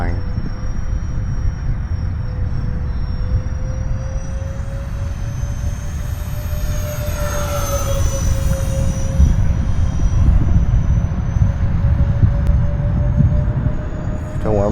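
E-flite A-10 Thunderbolt II radio-controlled jet with twin 64mm electric ducted fans, a loud steady high-pitched whine from the fans that rises and falls in pitch as it passes over strong wind and rumble.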